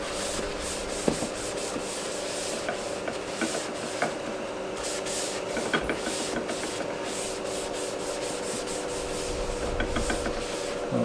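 Cloth wiping cleaning solution off a plastic hatchling tub used for ball pythons: continuous close rubbing and squeaky scrubbing strokes at a fairly even level, with no talking.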